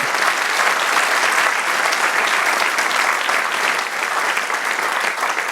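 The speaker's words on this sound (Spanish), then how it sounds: "Denle un aplauso al Señor" Congregation applauding the Lord during a church sermon service, a loud, steady dense wash of many hands clapping that holds evenly throughout without pause.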